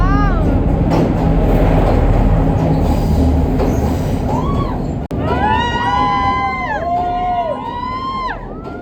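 A train rumbles loudly through a cave on the Meeyanella–Ihalakotte route in Sri Lanka, with a crowd cheering and voices over the roar, then sharp, high wheel squeals ring out repeatedly near the end.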